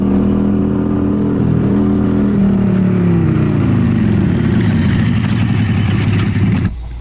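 Motorcycle engine running close by, a steady loud drone with rising and falling revs throughout before cutting off abruptly near the end.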